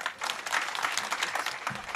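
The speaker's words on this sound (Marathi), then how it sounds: "टाळी वाजवा टाळी." A crowd at a Holi-special kirtan gathering in a village claps steadily throughout, a dense, even patter of applause heard at moderate distance.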